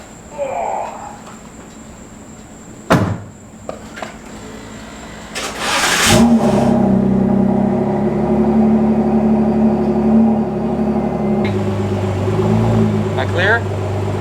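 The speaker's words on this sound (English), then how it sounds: "last drive in the GT into the trailer" A 2018 Ford GT sports car engine starting after a few clicks and thumps, then idling and revving with a steady loud drone as it drives into a trailer, with pitch shifts near the end; people speak briefly.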